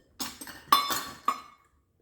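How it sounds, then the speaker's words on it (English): A few clinks of a utensil against a bowl while banana pudding ingredients are mixed, three or four sharp taps with ringing tails, close and alone. "So now I'm going to go ahead and continue mixing."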